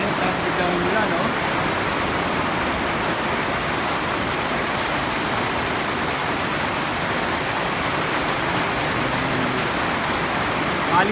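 Heavy downpour after hot, cloudy weather: a loud, unbroken hiss and patter of rain striking nearby surfaces, steady throughout.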